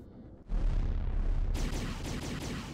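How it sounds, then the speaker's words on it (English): Rockets launch from a starfighter in Astro Flame Starfighter, a sudden loud roaring blast that sustains for a couple of seconds, then shifts into a brighter, harsher burst of fire with rapid repeating pulses. "Oh shoot, I fired the rockets again."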